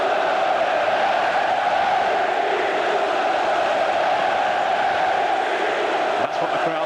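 A football stadium crowd roars steadily at an Inter versus Vicenza match, a loud, sustained wall of voices holding level throughout before dipping briefly near the end.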